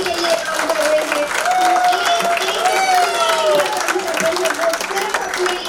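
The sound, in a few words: audience applause at Varanasi event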